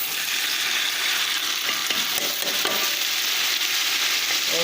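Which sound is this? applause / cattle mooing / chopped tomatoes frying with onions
chopped tomatoes frying with onions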